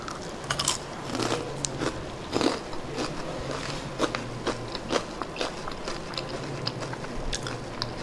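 Crispy amaranth leaf pakodi being bitten and chewed close up, with repeated crunchy bites and crackles spread over several seconds, no talking.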